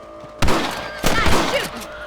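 Gunshots in the video game Red Dead Redemption while hunting rabbits: two loud, sharp shots about half a second apart, each with a ringing, echoing tail over a low background ambience.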